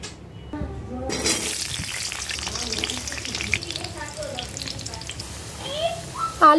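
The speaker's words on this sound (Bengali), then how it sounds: "এই তেলের মধ্যে আমি কেটে রাখা আলুগুলোকে সুন্দর করে লাল লাল করে ভেজে নেব।" Cut potatoes go into hot oil in a wok and set off a sudden, loud sizzle that keeps crackling and bubbling close by, with occasional clinks of stirring.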